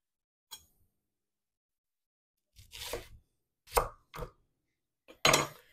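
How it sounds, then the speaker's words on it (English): A knife cuts through a peeled vegetable on a cutting board into half-inch slices, making about five crisp, close slicing strokes with a thud on the board and short silences between them. "I'm gonna make half inch slices again."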